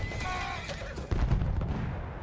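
A horse in the World War I shooter Battlefield 1 lets out a loud, close whinny, followed by hoof clops and a sharp thud of impact and movement noise.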